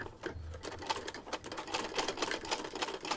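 A sewing machine running steadily while cloth is turned under the needle during basic stitching practice, with a fast continuous mechanical chatter of stitches, close and even, no voice over it.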